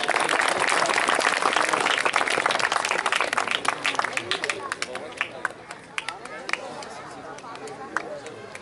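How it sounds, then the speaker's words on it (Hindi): Audience applause at a farewell ceremony, dense broadband clapping that is loud at first and thins into scattered claps by the end, with a voice audible faintly underneath. "भरपूर तालियां होनी चाहिए।"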